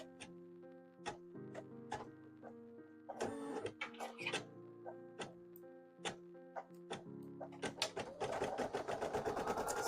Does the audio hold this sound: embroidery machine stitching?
yes